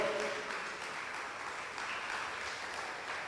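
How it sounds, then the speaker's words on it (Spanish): A church congregation at a Spanish-language service clapping for the Lord: soft, continuous clapping heard from a distance, quiet and even throughout, with no voices over it. "Dele fuerte las palmas al Señor."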